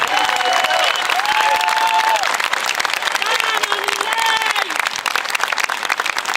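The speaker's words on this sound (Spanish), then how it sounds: "les pido un aplauso" Sustained crowd applause and some cheering from an audience at an open economics class, loud and continuous, with faint voices and a melodic tone mixed underneath.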